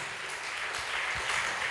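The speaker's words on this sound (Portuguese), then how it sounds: "Dê um aplauso, Senhor Jesus." A church congregation applauds in a faint, dense wash of clapping that continues steadily for under two seconds, heard from a distance.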